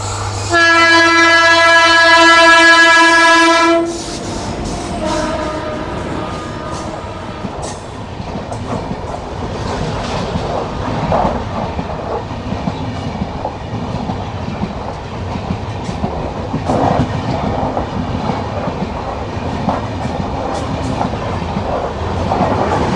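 The 14505 Nangal Dam Express, a long-distance train from Mumbai toward Amritsar, sounds a loud horn for a few seconds, then rolls on with a steady rumble and rhythmic clickety-clack over the rails.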